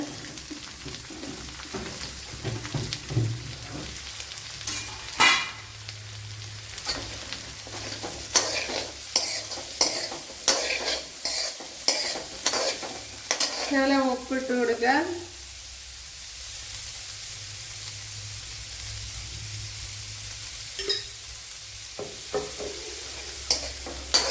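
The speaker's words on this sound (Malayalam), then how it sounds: "ഇതിലേക്കിനി രണ്ട് മീഡിയം സൈസ് സവാള ചതച്ചതിട്ട് കൊടുത്തിട്ടുണ്ട്" Crushed medium-sized onions fry and sizzle in a pan with repeated stirring scrapes, loud and close. The frying is steady throughout, with a brief swell of voice partway through.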